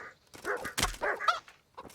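A dog in the medieval video game Kingdom Come: Deliverance barks several times in quick succession, loud and close, mixed with a heavy thud, with no talking.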